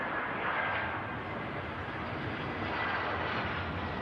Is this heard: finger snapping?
no